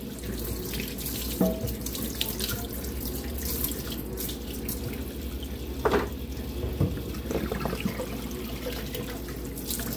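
Tap water running steadily over plastic parts to rinse off soap, a constant hiss and splash with occasional clunks of parts being handled under the stream.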